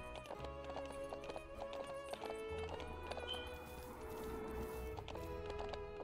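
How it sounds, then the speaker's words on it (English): Horse hooves clip-clop steadily in the video game The Ranch of Rivershine, moderately loud over light background music and game effects. "we're gonna bring the horsey into the stable"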